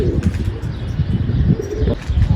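Pigeons coo steadily around a freshly painted coop, with low throaty calls and some wing movement close by, loud and continuous throughout.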